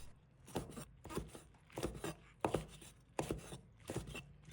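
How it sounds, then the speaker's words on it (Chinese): A knife chops Chinese yam into small pieces on a cutting board, making a run of sharp, close, fairly quiet chops in an uneven rhythm with short pauses between them. "放在案板上，然后把它切成小块。"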